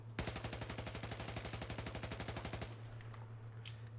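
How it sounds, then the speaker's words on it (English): An Ace-23 assault rifle in Battlefield 4 fires a rapid sustained burst of fully automatic shots for about two and a half seconds, then stops, leaving a faint steady hum and a few small clicks. "The Ace-23 has a very nice vertical recoil, pulls slightly to the right"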